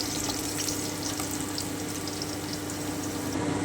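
Potatoes being lightly browned in hot oil for a Kashmiri mutton kosha produce a dense, constant frying hiss that stays even and close throughout, with no voices.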